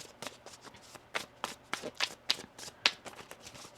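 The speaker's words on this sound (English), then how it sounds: "One more shuffle here." Tarot cards being shuffled in quick riffling bursts, a series of crisp papery flutters and snaps at close range, with no voices.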